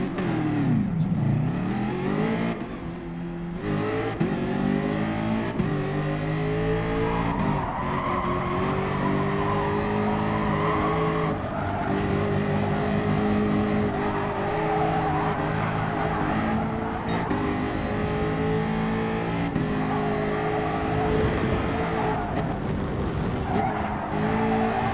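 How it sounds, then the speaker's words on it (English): A Ferrari in a racing video game accelerates hard, its engine note rising and falling through gear changes, with squealing tires and skids, loud and close throughout with no talk. "That Ferrari's quick, isn't it?"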